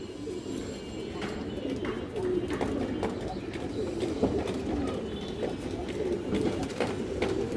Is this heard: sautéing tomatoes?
no